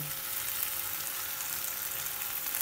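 Okra (bendakaya) fries in a pan while being stirred, a continuous close sizzle with a faint low scraping underneath, steady and unbroken, no talking.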